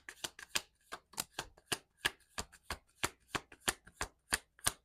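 Tarot cards being shuffled up close, a quick run of about seventeen crisp riffling bursts in an even, rhythmic pattern with no talking.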